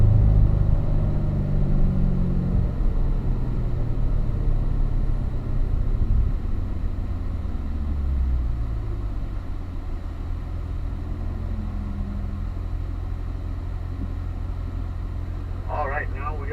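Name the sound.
car accelerating on a race track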